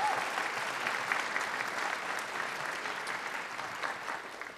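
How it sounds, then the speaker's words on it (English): Audience applause for a school jazz combo at a concert hall, a soft, steady wash of many hands clapping at a distance, gradually tapering off. "Round of applause for them."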